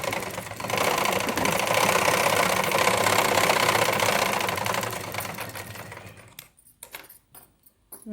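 A sewing machine stitches a blouse with a continuous, loud mechanical whir for about six seconds. It stops abruptly, leaving a few light clicks and knocks.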